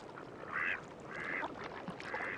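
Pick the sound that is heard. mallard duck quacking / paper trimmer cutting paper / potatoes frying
mallard duck quacking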